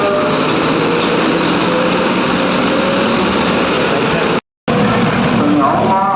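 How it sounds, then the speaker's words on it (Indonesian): A Makmur Tronton bus with a Jetliner body pulling out of a Pekanbaru bus terminal at night, a loud, continuous engine roar blended with dense ambient noise, briefly cutting out near the end before resuming. "berangkat malam ini bus Makmur Tronton Osor body jetliner"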